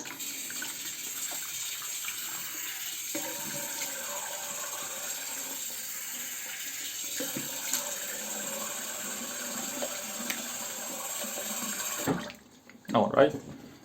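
Tap water running steadily into a sink while rinsing after a shave, a constant close hiss that cuts off near the end before a few brief splashes.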